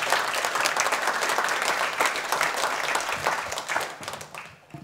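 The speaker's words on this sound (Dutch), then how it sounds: "dames en heren, een applaus voor Bernlef." Sustained applause from a studio audience at a literary talk show welcoming an author, dense steady clapping that fades out near the end.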